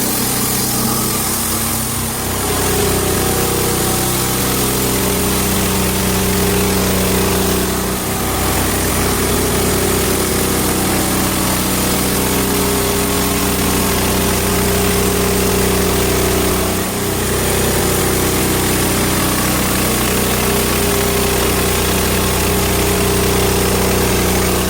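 A Hud-son Patriot sawmill engine drones steadily and loudly while cutting boards from a big log, a continuous mechanical hum with slight load changes and no talk.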